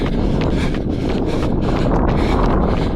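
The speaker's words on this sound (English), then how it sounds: "We've been running against the wind for the last 7 or 8, so it doesn't help." Strong wind buffeting the microphone while runners push into a headwind on a long 36 km run, a loud, continuous roar with gusty surges and no speech.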